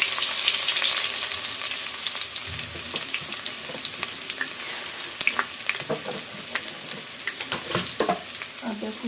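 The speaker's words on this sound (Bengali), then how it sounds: "আদা কুচিটা একটু ভেজে নিয়ে পেঁয়াজটা দিয়ে দেব" Dried red chillies and chopped ginger sizzle in hot oil in a pan, a steady close frying hiss with scattered crackles and pops and a few brief metallic scrapes.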